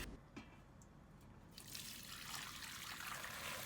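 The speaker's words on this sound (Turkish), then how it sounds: "Haşlama suyunu da başka bir tencereye süzeceğim." Quiet trickling water that swells into a steady pour of beet cooking water being strained into a pot.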